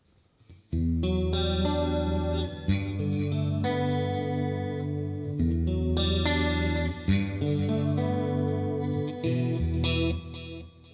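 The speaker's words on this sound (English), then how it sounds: "and let's add a little chorus." An electric guitar through a Fractal Audio preset with delay, reverb and chorus strums chords and picks notes with a shimmering, wavering chorus effect, loud and up close, with no talking.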